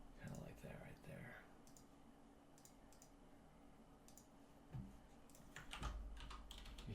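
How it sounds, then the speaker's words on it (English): Quiet typing on a computer keyboard during a digital drawing session, with soft clustered key clicks coming in short irregular bursts over a low room hum. "You hear me typing."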